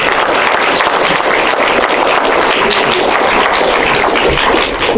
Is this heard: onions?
no